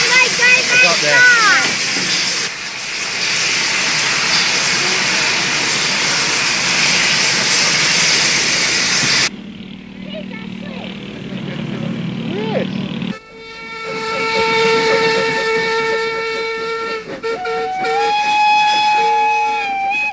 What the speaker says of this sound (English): Number 25 is one of 3 ex-Army locomotives on the line, numbers 23, 24 and 25.